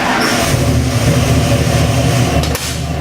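A 427 cubic inch EFI stroker V8 built on a 351 Windsor block, fitted to a 1969 Mustang, runs at a steady loud idle with a deep rumble, close by, with a brief dip near the end.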